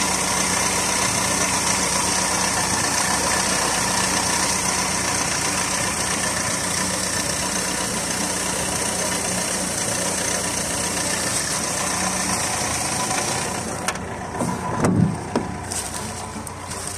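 Renault 4 GTL with a 1100 cc petrol engine idling, a steady, even hum close by that holds throughout, with a few brief knocks and clatters near the end.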